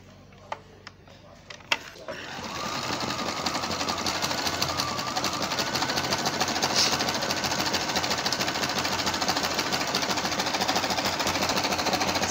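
An Electrolux 990S electronic sewing machine stitching: a few clicks at first, then a steady, fast mechanical whirring and tapping rhythm that runs close and continuous for about ten seconds.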